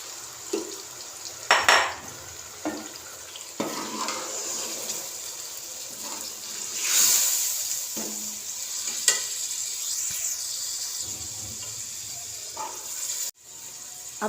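Red kidney beans (lobia) added to a spiced masala in a cooking pot, with a steady sizzle and scattered clinks and scrapes of a spoon against the metal pot, no talk.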